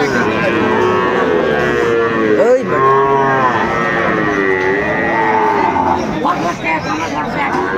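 Sahiwal cattle moo repeatedly, long drawn-out lowing calls rising and falling, close and loud over a busy background of crowd noise at a livestock market.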